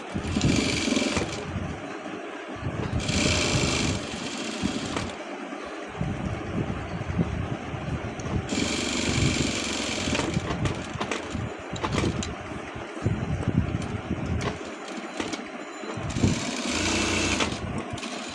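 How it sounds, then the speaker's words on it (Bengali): A sewing machine double-stitches the side pocket of a pair of shorts, running in several loud bursts with short pauses between them, a close, busy mechanical whir that stops and restarts across the clip. "এটাকে এভাবে সেলাই দিবেন"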